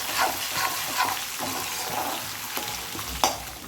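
Pirandai (adder's creeper) is stirred in a frying pan, with soft scraping strokes and a faint, continuous sizzle, quiet and close, with a few sharper clinks of the spoon against the pan.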